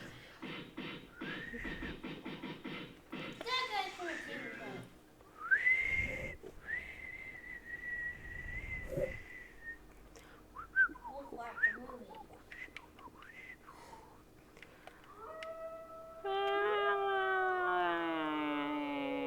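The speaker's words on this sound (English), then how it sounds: "Can you whistle? Yes." A person whistles several sustained tones and short rising-and-falling phrases, fairly quiet and close, mixed with breathy sounds and ending in a longer wavering melody.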